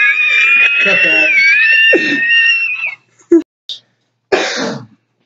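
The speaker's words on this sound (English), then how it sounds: "And there's the signature cough." A single sharp cough from someone vaping, coming as a short burst after a stretch of talking and followed by a couple of brief throat noises, close and loud.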